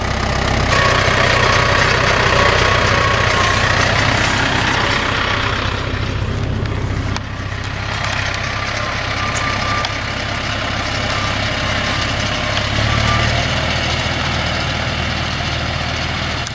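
Tractor-mounted post rammer working outdoors on a farm, a loud continuous heavy diesel engine drone with hydraulic whine that dips briefly midway and then carries on steadily.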